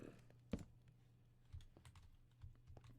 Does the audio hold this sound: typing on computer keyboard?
yes